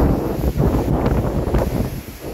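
Strong wind at Abot Cave in Pagudpud, Ilocos Norte, buffets the microphone in continuous rough gusts, a loud roaring rush with no voices.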